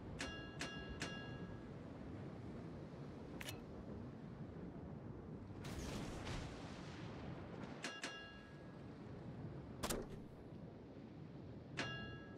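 Warship artillery fires at an enemy ship in a naval battle game: several sharp, distant booms spread across a steady rumbling backdrop, some with ringing metallic tails.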